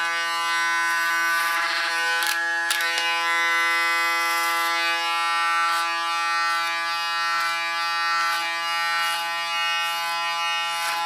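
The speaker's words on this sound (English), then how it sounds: "When you hear that strange sound what you hear between it, that's our hairs between the blades." Electric hair clipper running steadily at close range, a sustained buzzing drone with faint crackles and brief snags as blades cut through hair, continuous over the whole stretch with no talking.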